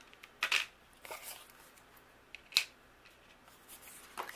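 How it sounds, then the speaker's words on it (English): Paper elements pushed through a die-cutting machine with coordinating dies, giving a few short, crisp crunches and rustles spaced apart, fairly close and quiet. "Now I'm gonna take the coordinating dies and I'm gonna cut out each one of my"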